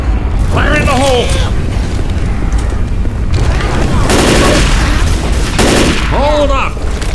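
Loud gunfire and a heavy blast in Left 4 Dead 2 pound through a chaotic firefight, bursts of shots overlapping a booming grenade explosion and a brief voice calling out.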